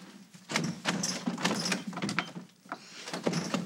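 A door on a soap opera television set, heard up close as a string of sharp knocks and rattling clacks in uneven bursts, with small pauses between them.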